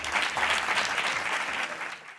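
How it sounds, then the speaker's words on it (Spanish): Audience applause for two speakers at a Spanish-language talk on dog-assisted therapy interventions, a dense, steady wash of many hands clapping throughout before tapering slightly at the end. "Un fuerte aplauso para Antonio Solano y Alberto Martín."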